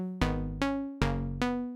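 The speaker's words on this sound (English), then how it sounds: "Saw pluck." A sawtooth synth pluck plays four quick, evenly spaced chord hits, each with a bright attack that decays quickly, clean and up front with no voice.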